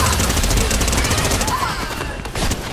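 Rapid automatic gunfire in Fortnite rattles steadily through a dense, busy game mix, with a burst of shots near the end.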